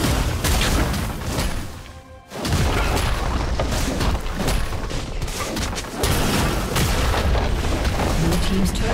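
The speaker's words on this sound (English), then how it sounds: "Blue team's turret has been destroyed" A turret exploding in the League of Legends video game: heavy, booming blasts and rumbling crashes fill the clip nearly nonstop, with a brief dip partway through and faint game voice under the din.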